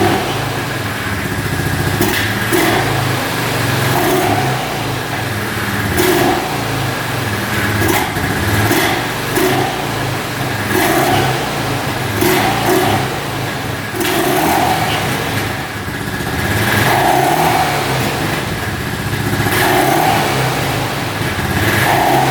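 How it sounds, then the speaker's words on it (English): A smoking Honda ATV engine is revved again and again over about twenty seconds. Each blip rises sharply and falls back to a rough idle. The sound is loud and close, and no one speaks. "Gives you a couple revs here."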